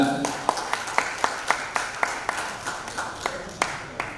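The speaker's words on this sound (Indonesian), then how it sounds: "kita berikan tepuk tangan rekan-rekan sekalian." A small group claps in a brief, even rhythm of sharp hand claps that slowly thins out.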